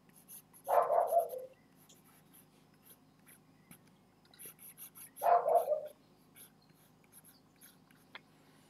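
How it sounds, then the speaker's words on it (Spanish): A dog barks twice in a classroom during a geology lecture on tidal deposits. The two short, moderately loud barks come several seconds apart over a quiet room hum, with no talking. "Tenemos un perro que está atendiendo"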